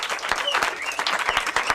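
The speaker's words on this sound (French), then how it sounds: "Merci d'applaudir." Wedding guests applaud as a cake arrives, close, brisk clapping with sharp individual claps and a few voices mixed in.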